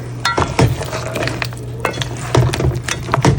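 Lobster cooks in a curry pot over low heat, with a soft background sizzle and scattered clinks and scrapes of a utensil against the pot at close range.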